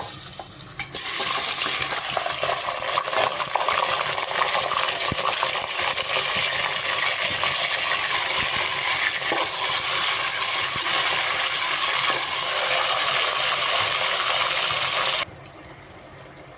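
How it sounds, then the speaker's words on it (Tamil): Chicken pieces sautéing in oil with spices, including whole spices like fennel and cinnamon, for a drumstick chicken curry. A steady, loud sizzle with scraping stirring runs continuously and drops away near the end. "இப்போ நம்ம கறியை சேர்த்து நல்லா வதக்கிக்கலாம் எண்ணெயிலேயே."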